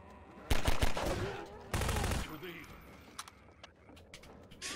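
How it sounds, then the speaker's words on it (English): Gunfire in the video game Half-Life 2, two loud bursts of rapid shots in quick succession, followed by softer clicks and clatter under quiet game sounds. "Do you mind shooting them, Farah?"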